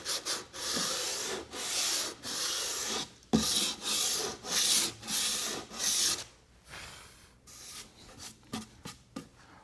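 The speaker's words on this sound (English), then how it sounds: "now that this putty started to cure, we can go ahead and start sanding it" Sandpaper rasps over cured Durham's Rock Hard water putty in a run of long, steady back-and-forth strokes, close and fairly loud, then quicker, shorter scrubbing passes near the end.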